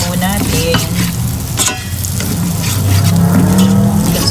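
Onion frying in a pan with garlic, stirred steadily, giving a continuous loud sizzle with scraping and clattering from the stirring throughout.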